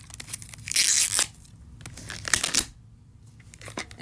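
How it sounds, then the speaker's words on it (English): Cardboard and plastic packaging of a Magic Mixies Pixlings Shimmerverse toy blind box being torn open by hand, two sharp ripping bursts with a pause between, close and fairly loud, with no talking. "We'll start by removing this to"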